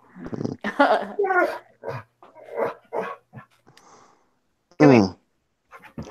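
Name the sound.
dog barking and whimpering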